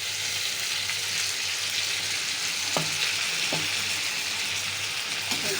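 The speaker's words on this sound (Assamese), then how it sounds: "চাউলখিনি ভালকৈ লৰাই ল'ম, পানীটো নুশুকালৈকে এনেকৈ লৰাই থাকিব লাগিব।" Rice frying in a pan with tomato paste and a little water, stirred until the water cooks off; a constant hiss of sizzling with a few distinct spatula knocks against the pan.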